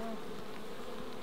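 Honey bees at an opened hive in mallee country buzz in a dense, continuous drone, steady and close with no pauses.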